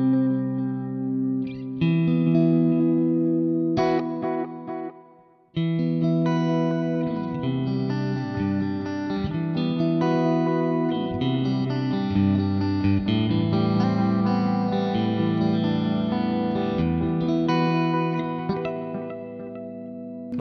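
Electric guitar played through a Line 6 DL4 delay pedal using heads 1 and 2, sustained chords and notes trailing into repeating echoes with a chorus-like shimmer, loud and continuous with one brief drop-out, no talking.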